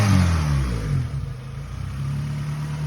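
A Honda B18C1 GSR engine swapped into an Acura Integra runs close by, its tone rising and falling through a rev before settling back to a steady hum.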